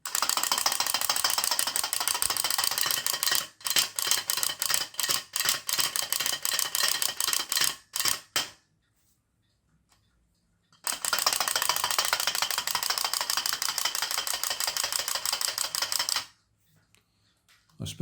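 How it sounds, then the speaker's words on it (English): A wind-up Halloween toy gives off a long, loud mechanical whirring rattle of gears while being wound and set going, then goes silent, and a second equally long rattling run follows before it stops again. "wind it up and it pivots so it jumps forwards"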